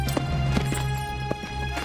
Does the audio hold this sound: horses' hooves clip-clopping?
yes